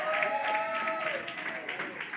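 A community outreach session crowd cheers and claps steadily after being urged to make noise, a moderate wash of voices and applause filling the whole moment with no clear break.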